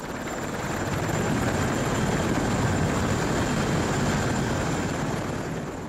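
A Turkish Armed Forces military helicopter carries out a flood rescue evacuation, its steady, loud rotor thrum and engine whine filling the air continuously at close range with no voices.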